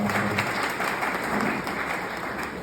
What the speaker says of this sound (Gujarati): એકવાર જોરદાર તાળીઓથી છે